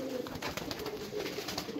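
Soft, low coos from teddy pigeons in Kasur, Pakistan repeat in a gentle rolling rhythm, fairly faint and close, with no talking.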